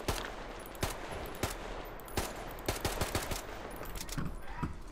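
Gunfire in Metro Exodus: scattered sharp shots and short automatic bursts at moderate distance over a steady background din, fairly faint, with irregular spacing.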